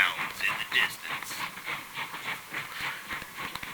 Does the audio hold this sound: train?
yes